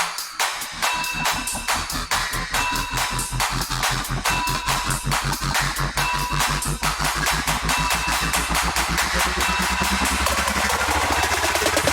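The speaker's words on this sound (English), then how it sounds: "and then I added this little drum rise with it" An electronic riser builds over rapid drum hits that speed up and grow denser, climbing in pitch and intensity toward a peak.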